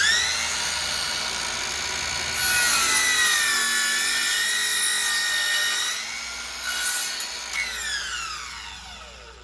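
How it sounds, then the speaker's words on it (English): Ryobi 18V ONE+ cordless 7-1/4 in. compound miter saw whining as it cuts wood at a 45-degree miter; a loud high motor tone rises as the blade bites, then winds down near the end. "you'll notice that I can come down and make the cut"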